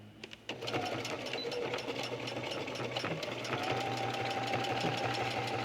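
Sewing machine back stitching through cork fabric for a beverage coozie, a close, steady mechanical hum and rapid needle chatter running continuously after a brief start.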